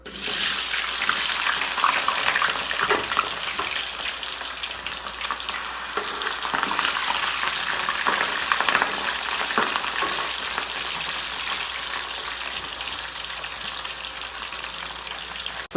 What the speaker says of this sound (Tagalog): Itang mantika, lagyan na natin yung patatas.